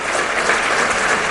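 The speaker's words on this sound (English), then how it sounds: "Let's clap and welcome our chief guest for the evening, Mr. Gautam Chatterjee." An audience at a construction industry awards evening applauds to welcome the chief guest, a dense, steady wash of many hands clapping throughout, loud and continuous with no speech over it.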